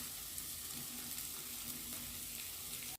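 Chili powder and turmeric powder frying in a pan for malai paneer, giving a steady, close, loud sizzle that runs unbroken through the whole stretch with no one talking.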